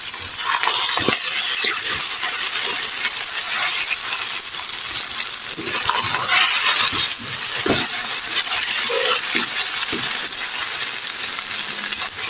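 Beef jhura sizzles and crackles steadily in a pan, with a spoon repeatedly scraping and clinking against the metal as it is stirred; close and loud, no talking.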